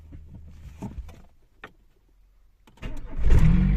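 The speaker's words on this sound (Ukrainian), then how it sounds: "І так дивіться, як Honda Civic заводиться." A Honda Civic engine is started after a day of sitting: a few quiet clicks and short bursts, then the starter cranks and the engine catches into a loud, close, steady idle.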